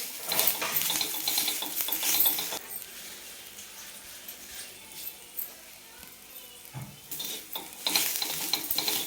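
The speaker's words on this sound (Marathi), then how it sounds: "तर गॅस बंद करून मी फक्त गरम तव्यावर हलवून घ्यायला लागले." Poppy, sesame and melon seeds stirred on a hot griddle with the gas turned off make dry scraping and rattling. The scraping is loudest in bursts at the start and end, with softer faint sizzling in between.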